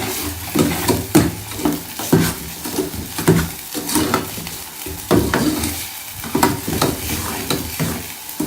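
Semolina halwa fries in a pan as sugar goes in, a close, busy sizzle with rhythmic scraping and clanking of a spoon stirring against the pan roughly every half second, no voices.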